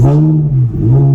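A Ferrari 360 Modena engine revs up strongly, dips briefly, then climbs again in a deep, loud, sustained roar close by.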